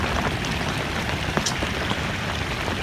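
Rain falls steadily on a hillside, a dense close patter of drops with a few sharper individual splashes, continuous and fairly loud.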